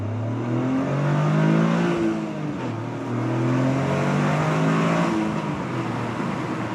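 Toyota GR Corolla with a 1.6-liter turbocharged three-cylinder engine accelerating on a race track in all-wheel-drive track mode, a loud, steady engine drone with rising and falling harmonic pitch across two pulls, close to the car with no talk.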